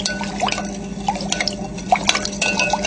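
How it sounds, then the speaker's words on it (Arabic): Lemonade with a spoonful of orange blossom water is stirred in a container, giving quick liquid swishes and light clinks in an irregular close-up rhythm, with no speech. "ومنحركهم"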